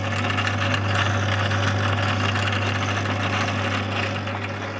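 Motor of a Durst RCP50 photo processing machine, set on trestles, gives a steady, loud mechanical drone with a strong low hum and constant broadband whir, running without pause and with no talking.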